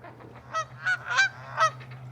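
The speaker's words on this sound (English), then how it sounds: "I let Scout out, and those Canadian geese, they wanted nothing to do with her." Four loud Canada goose honks sound close by in a steady sequence, with a constant low hum beneath them.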